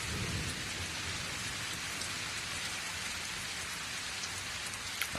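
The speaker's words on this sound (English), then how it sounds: "What a downpour." A dense video game downpour in RUINSMAGUS hisses steadily with rumbling thunder underneath, with no voices.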